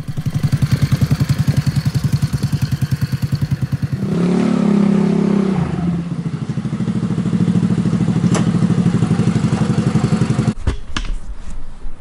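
GY6 scooter engine idling with a steady rapid putter, then briefly revving louder before settling back, ending with a few clanks near the machine, close and without talk.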